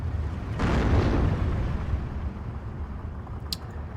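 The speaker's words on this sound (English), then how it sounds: "Let's go ahead and start firing all of our mortars on that." Mortar fire in the 1944 World War II strategy game Steel Division II lands as a single deep, rumbling explosion that swells and slowly decays over a low battlefield drone, followed by a faint sharp crack, no talk.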